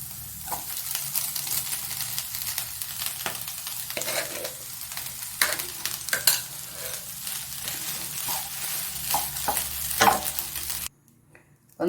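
Cooked rice being tossed into a pan of sautéed capsicum for capsicum rice, with steady close frying, sizzle and repeated scraping stir strokes, then an abrupt cut to near silence at the end.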